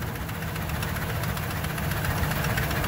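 A Ford F150 pickup's engine runs steadily in neutral, a dense, continuous rumble with a slight knocking edge that holds at an even loudness throughout, close to the microphone with no voices.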